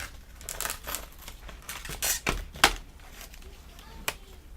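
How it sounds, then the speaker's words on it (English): Adhesive tape peeled off a tempered glass screen protector box for a Fire HD 10 tablet, followed by the package being opened: a few scattered close tearing and crinkling bursts with sharp rips, fairly quiet, no talking. "Take that tape off. Tape on 3 sides. Bam. Tape remove. Let's open it."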